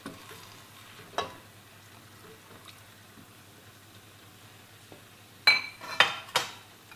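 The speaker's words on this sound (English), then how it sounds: "you can hear the pan sizzling at the bottom there" A pan of mushrooms, peppers and vegetable stock sizzles softly in the background while a utensil scrapes and clinks against it a few times, louder stirring bursts near the end.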